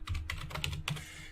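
Quick bursts of keystrokes on a computer keyboard as a command is typed, about seven close, crisp clicks in a rapid uneven rhythm.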